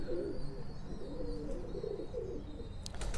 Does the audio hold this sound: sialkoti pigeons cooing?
yes